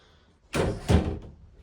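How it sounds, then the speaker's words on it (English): A summerhouse door swings shut nearby with a solid thud, followed by a second knock as it settles, then quiet. "so we can close the door."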